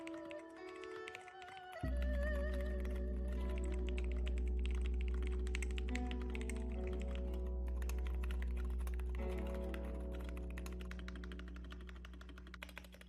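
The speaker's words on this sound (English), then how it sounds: "On the MAD 60 you can really hear the slapping of plastic." Typing on MAD 60 and Routing 60HE mechanical keyboards, a rapid run of close, crisp keystrokes with plastic clacks, heard over a sustained low musical backing.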